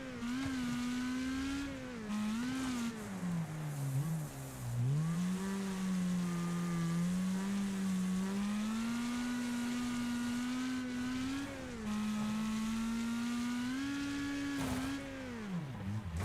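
Race cars in the demolition-derby driving game Wreckfest, engines droning and revving continuously with rising and falling pitch as the cars race, loud and steady throughout with no talking.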